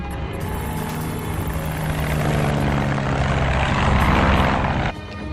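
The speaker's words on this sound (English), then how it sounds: "This plane will get you to where you need to go." A plane flies in an action film, its loud, steady engine drone filling the scene. The drone swells slightly before dropping off abruptly just before the end.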